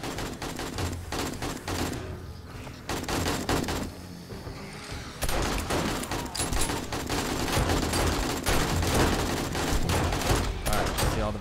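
Dense bursts of gunfire from the 7 Days to Die horde night, volleys of shots fired at a creature by a character called the nurse, rattling almost continuously with a short lull before resuming loud and sustained.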